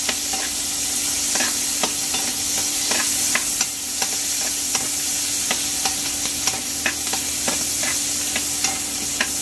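Onions sautéing in a pan for beef mechado, a bright steady sizzle with repeated sharp scrapes and taps of a spatula stirring at an irregular rhythm, close and loud, no voices.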